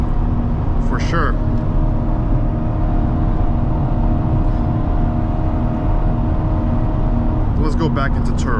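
Chevrolet Corvette C8 3LT Z51 on a test drive, engine and road noise forming a steady loud cabin drone, with a person talking briefly near the start and end.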